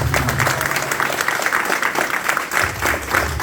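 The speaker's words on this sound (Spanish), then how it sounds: "Dale un aplauso a esa palabra de Dios." Loud congregational applause in a church, many people clapping close by with a faintly pulsing, uneven rhythm that swells and dips but never stops.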